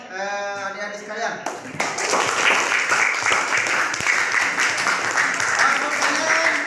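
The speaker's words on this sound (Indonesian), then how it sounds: "anak sekalian aplaus dulu jawaban dari teman-teman adik-adik sekalian" Children clapping together in a school classroom, a loud steady burst of applause that starts just after a short shout of young voices and carries on to the end.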